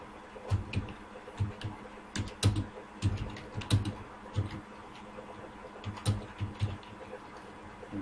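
Typing on a computer keyboard while writing a cash memo in MS Word: a steady run of clicky key presses in irregular bursts, close and clear over faint background hum.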